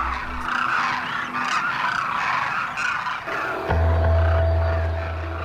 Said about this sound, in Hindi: थार में माइग्रेट होकर आई ये डेमोसेल क्रेन्स हजारों का झुंड बनाकर रहती हैं।